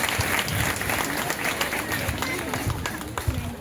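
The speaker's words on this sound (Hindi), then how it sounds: "तो एक बार फिर से धन्यवाद देते हुए ताली बजा दीजिए हमारे बाबा लोगों के लिए।" A church congregation at Mass in the Minor Basilica in Ulhatu, Ranchi, claps in sustained applause throughout, with steady crowd noise and some murmuring under it.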